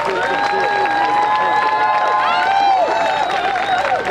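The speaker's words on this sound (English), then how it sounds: "Let's give them a big round of applause." An audience at a Toronto Ukrainian festival claps and cheers steadily for a Bukovina theatre troupe, a dense, continuous wash of applause close by, with voices calling out and tonal sounds carrying through it.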